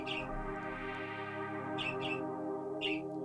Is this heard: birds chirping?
yes